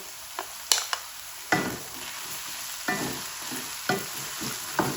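Ginger garlic paste sizzles and crackles in a hot pan, with a spoon scraping and stirring in irregular strokes, close and moderately loud.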